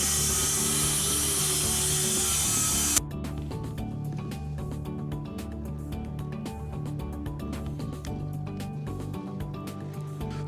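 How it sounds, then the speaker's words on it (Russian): Self-tapping screws driven into wall panels in a workshop converted from a chicken coop: a steady, close power-tool whir with a bright hiss at first, then a continuous drone with rapid ticking and crackling. "И сейчас полностью все на саморезы прокручу."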